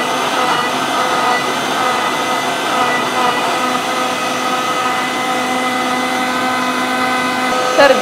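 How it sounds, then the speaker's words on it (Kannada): A home mixer grinder with a four-jar coupler running while making juice, a loud steady motor whine with a constant hum, no talk, ending with a short clunk as it stops. "ಆರಾಮಾಗಿ ಜಾರ್ ಫಿಕ್ಸ್ ಮಾಡಿಬಿಟ್ಟು ಮಿಕ್ಸಿನ ಆನ್ ಮಾಡ್ತಾ ಇದ್ದೀನಿ."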